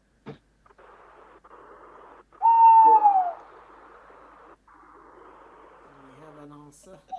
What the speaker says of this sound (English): It's a tawny owl, to be specific.